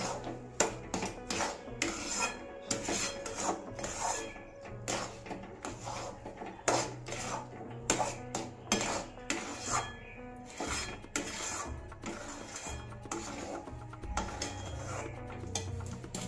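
A spoon scrapes and taps against a pan as soft sheera semolina pudding is stirred, a close, continuous rhythm of rubbing and light knocks.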